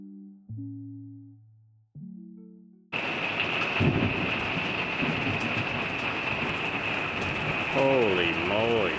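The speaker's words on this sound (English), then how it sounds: "We woke up to the most intense thunderstorm we had ever seen at like 4 o'clock in the morning." Intense nighttime thunderstorm in Tupelo heard from inside an RV: loud, steady rain roars without a break after a few opening tones, with rumbling thunder swelling underneath and a clear hiss across the top.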